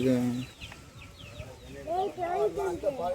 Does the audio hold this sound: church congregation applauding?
no